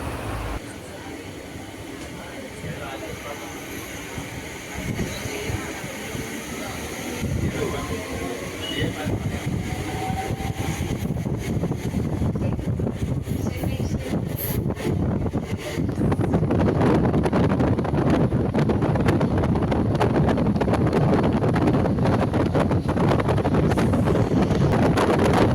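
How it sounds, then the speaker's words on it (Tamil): Steady rumble and clatter of an electric EMU local train running between Tiruvallur and Avadi, heard from inside, growing louder and rougher partway through, with wind noise throughout. "திருவள்ளூர்லேருந்து ஆவடி வரையும் லோக்கல் இஎம்யூ ட்ரெயினில் நம்ம ட்ராவல் பண்ணி போயிட்டுருக்கோம்"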